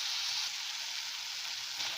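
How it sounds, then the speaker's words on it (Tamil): Tomatoes sautéing in a pan for a matar paneer base, a steady soft hiss of sizzling that runs continuously and evenly, fairly quiet with no voices. "ஸோ நல்லா ஒரு 2 நிமிஷம் வதக்கிக்கலாம்."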